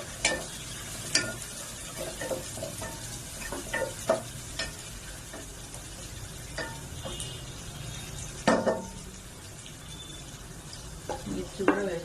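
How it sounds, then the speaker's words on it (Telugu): Onions frying in hot oil in a pan for a Telangana-style mutton curry: a soft, constant sizzle with intermittent scrapes and clinks of a stirring spoon against the pan. "నేను ఆనియన్స్ వేసుకుంటున్నాను."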